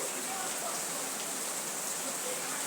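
Steady rain falls outdoors on an evening walk near palm trees, a dense even hiss filling the scene without pause, moderately loud and close.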